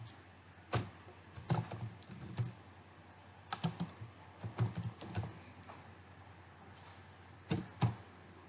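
Quick bursts of typing on a computer keyboard while writing code, with close, crisp key clicks in uneven clusters and short pauses between them.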